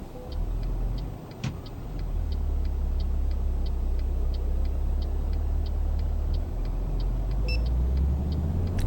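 A heavy truck in Euro Truck Simulator 2 pulling a wind turbine load, its engine rumbling low and steady as it builds speed, with a regular ticking indicator clicking above it.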